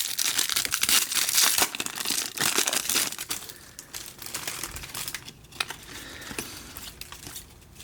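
Wrappers of 1993-94 Parkhurst hockey card packs crinkle and crackle near and loud, in dense bursts that ease to lighter rustling, with no talk.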